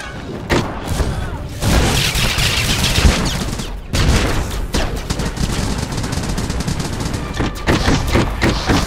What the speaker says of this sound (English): Havoc Squad, suppressive fire!